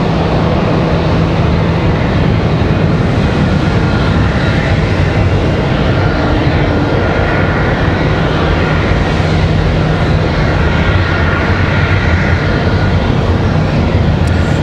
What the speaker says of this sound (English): if you guys are interested in that MD-11 heavy departure, it is coming up real soon